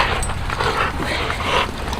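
A working dog during bite work training makes close, breathy panting and whimpering sounds over a rough, noisy outdoor background, with no talk.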